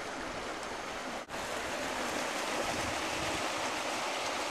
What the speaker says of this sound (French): c'est peut-être le ruisseau du Bolu